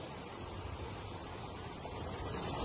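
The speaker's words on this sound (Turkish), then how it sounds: "Göçbeyli köyü Ömerli Barajı'nı besleyen dere." A stream feeding the Ömerli Dam near Göçbeyli village rushes steadily, a close, continuous broadband wash of flowing water with no pauses or voices.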